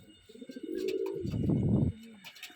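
An old-bloodline male pigeon gives a loud, close, rolling coo that swells into a throaty burst, then a short trailing coo, with faint background chatter.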